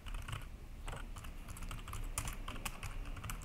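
Rapid keystrokes on a computer keyboard as a short word is typed into a Free Pascal program, steady close clicking with no talk.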